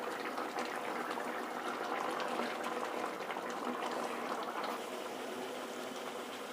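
Chicken gravy made without coconut bubbles in an open pot with the lid off, a soft, continuous simmering fizz and gurgle that stays steady throughout.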